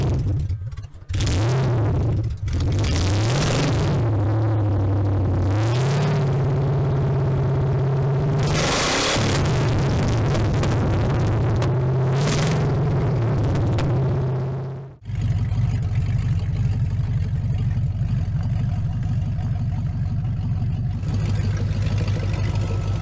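Junk hot rod engine idling while running very rich with no oxygen sensor or other sensors fitted: a few revs blip early on, then a steady, throbbing low idle that continues close and loud, with a shift in tone midway.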